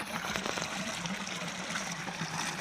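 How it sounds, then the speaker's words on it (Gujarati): Irrigation water runs steadily into a wheat field on a farm in cold winter weather, a constant, fairly close rushing wash with no break and no voices. "આપણે પાણી ચાલુ કર્યું છે ઘઉંમાં"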